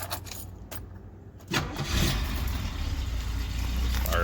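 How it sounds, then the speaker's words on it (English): A classic Mercedes W108 with a six-cylinder engine and rebuilt twin Zenith carburetors cranks briefly, then fires up about halfway through and settles into a loud, steady idle close by. "Start it up so you can hear this sweet 6-cylinder."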